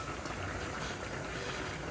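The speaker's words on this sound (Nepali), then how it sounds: "हाम्रो यतिको उम्लिरहेको छ।" Nepali chicken thukpa broth boils in a pot, a steady, close, bubbling hiss with no talking over it.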